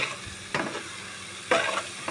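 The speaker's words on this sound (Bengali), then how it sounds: "প্রথমে অনেকগুলো পেঁপে কেটে নিলাম। কেটে নেওয়ার পর এগুলো তেলের মধ্যে ভাজবো অনেকক্ষণ পর্যন্ত।" Cut papaya pieces sizzle steadily in hot oil, with two brief louder bursts of stirring scraping against the pan.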